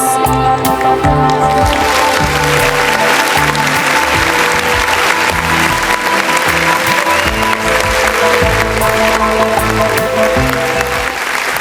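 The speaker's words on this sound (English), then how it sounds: "May I have a round of applause?" Applause from a pageant audience at a Mrs and Miss heritage round, a steady, loud wash of clapping that fills the whole stretch, with music-like tonal bands running underneath.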